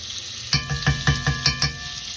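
Butter sizzling in hot bacon grease in a frying pan over a low burner, with a steady fry hiss broken by about six crisp crackling bursts at an even rhythm, close and fairly loud, with no talk.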